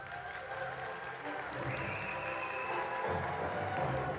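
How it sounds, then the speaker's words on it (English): Audience at a tech event in Bucharest applauding a guest speaker, a steady wash of clapping with some crowd murmur, fairly distant and sustained. "A warm round of applause, please, for Mr. Andrei Stănescu."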